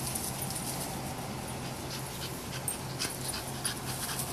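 A dog pants rapidly and rhythmically at close range outdoors at night, a steady breathy huffing sustained throughout without talk.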